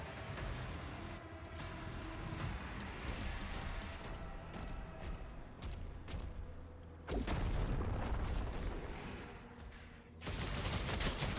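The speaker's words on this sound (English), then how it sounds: "So that explosion is pretty bad." Explosions and heavy combat effects from the video game Doom: The Dark Ages form a dense, loud, continuous roar, with a sharp louder burst about two-thirds of the way through.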